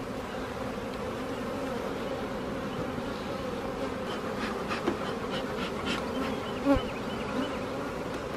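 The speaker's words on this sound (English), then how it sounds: "so I don't squish any of the bees when I put the other box on top of it." Steady, dense buzzing of many honeybees swarming around an open beehive as a box is stacked onto it, close and continuous throughout with no talking.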